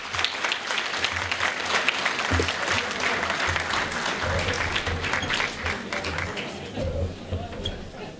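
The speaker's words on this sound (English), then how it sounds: "So I'll give them a round of applause." Sustained applause from a crowd at an indoor soccer cup event fills the space, dense and steady, with a few voices murmuring underneath and the clapping fading slightly at the end.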